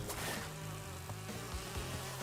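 Bees buzz in a video game, a dense, continuous drone of several insects humming together at a low, steady level alongside faint game sounds.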